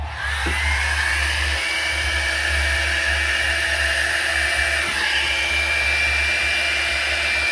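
A hair dryer blowing across wet paint on a 12 x 36 inch canvas, a steady close whirring hiss that holds constant, with a couple of faint knocks along the way.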